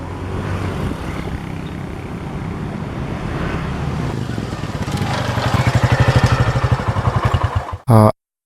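A motorcycle engine rumbles steadily nearby, then swells into a louder, rapid throbbing beat before cutting off abruptly.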